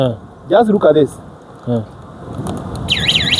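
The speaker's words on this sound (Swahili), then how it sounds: "the alarm is going to make a lot of noise" Someone speaks briefly, then an electronic alarm starts up, rising into a loud, rapidly warbling siren that repeats in steady cycles.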